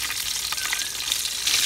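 Green chillies fry with cumin in hot oil for a village-style mirchi ka salan, a close, steady sizzle with light crackles and brief stirring over a short stretch, with no voices.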